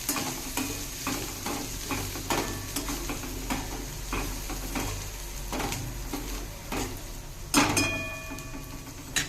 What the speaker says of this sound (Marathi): चवीपुरता मीठ घालून याला छानपैकी सगळीकडून एकदम परतून घेऊया।